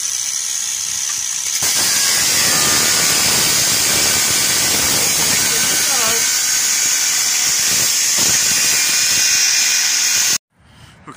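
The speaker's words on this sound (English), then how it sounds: "I'm just gonna have to nick this out with a cutter" A cutter nicks through a steel car-transporter trailer chassis to fit a landing leg, giving a loud, continuous harsh hiss with a thin whine that stops abruptly near the end.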